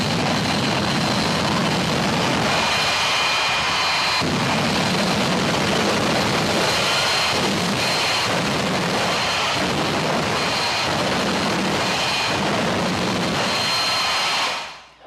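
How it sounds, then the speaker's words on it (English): A loud, continuous roar from a jet engine fire truck dominates throughout, steady and close with slight pulsing, before cutting off at the end. "a jet engine fire truck, which is always pretty cool because he makes a big mess and a lot of noise"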